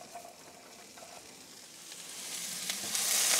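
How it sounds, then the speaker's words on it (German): Root vegetables roasting in clarified butter inside a Dutch oven: a close, hissing sizzle with light stirring that grows steadily louder and brighter toward the end. "Da gebe ich jetzt das Wurzelgemüse rein und röste das jetzt einfach mal ein bisschen an."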